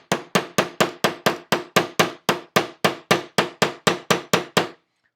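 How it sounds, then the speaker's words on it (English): A hammer taps the sear cage into a Walther Q5 Match SF steel-frame aftermarket trigger, sixteen evenly spaced sharp metallic knocks at a steady quick rhythm, close and loud, then stops. "apply some force with your finger to the top of the sear cage so that it does not start to pop out as you hammer"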